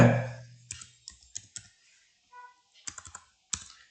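Quiet, sparse keystrokes on a computer keyboard, small clusters of clicks spaced irregularly over a few seconds in a silent room, with a short burst of other noise at the very start.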